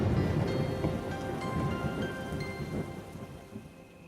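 Heavy rain pours steadily with rumbling thunder underneath, a dense, constant wash of downpour that fades slightly toward the end.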